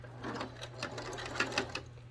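A sewing machine stitches along the edge of a felled seam on a simple one-piece fabric gift bag, a soft, steady rapid chatter held for a couple of seconds at low volume.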